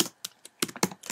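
A web address being typed on a computer keyboard, a quick burst of about eight crisp key clicks, close and fairly quiet.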